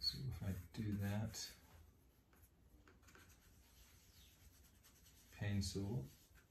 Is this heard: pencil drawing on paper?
yes